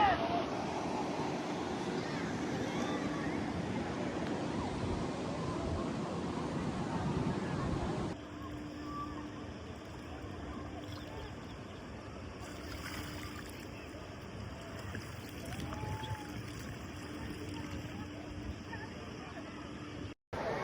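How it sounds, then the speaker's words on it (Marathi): Flowing water at the Badlapur barrage dam in the hot month of May, a steady broadband rush that is loud for the first eight seconds and then drops to a softer, continuous wash with wind noise. "इतकं प्रचंड पाणी, वाहतं पाणी"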